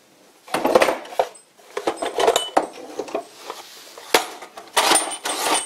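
Metal clinks and clatters as brass bits and old lathe parts are handled and shifted around in a box, several bursts of rattling close up with short pauses between them.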